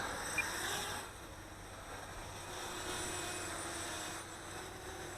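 Motors of a Blade 200 QX RC quadcopter fitted with a CNC frame spin up outdoors on a breezy day, a steady high whine with a broad rushing hiss that dips briefly then holds level throughout.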